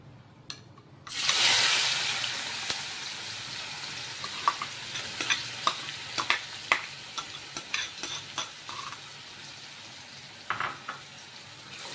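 Chopped onion dropped into hot oil with whole garam masala spices for a potato curry, bursting into a loud sizzle that settles into steady frying with repeated stirring scrapes of a spoon in the pan.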